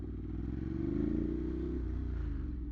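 Ducati Monster 821 Dark motorcycle being ridden, its engine a steady, loud low rumble that swells slightly and holds throughout, with no talk over it.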